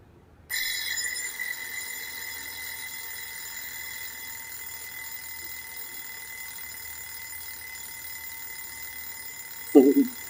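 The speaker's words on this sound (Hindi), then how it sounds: "ये कौन सा अलार्म है?" An alarm clock rings steadily for about ten seconds in a quiet room, a continuous bright electronic tone, before a voice briefly speaks near the end.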